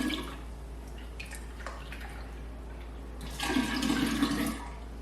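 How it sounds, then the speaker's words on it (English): Homemade kombucha brew poured into a jar holding a SCOBY, a continuous watery splashing and trickling that swells louder near the end, with no talking. "pour our freshly made brew"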